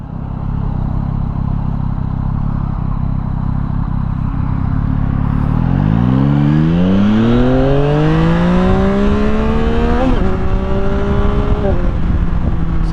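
A Yamaha XSR900 motorcycle accelerates hard from the rider's position, engine rising in pitch through a couple of quick upshifts with brief dips at each shift, loud under constant wind rush.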